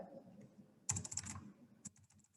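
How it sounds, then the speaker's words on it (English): Quick bursts of clicking keystrokes on a computer keyboard, close and fairly quiet, with short pauses between flurries. "you have to listen here when I am typing"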